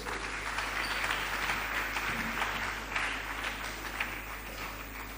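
An audience applauds a minister at a Ghanaian government briefing on rebuilding the economy, giving steady, dense clapping that holds for about five seconds without a break.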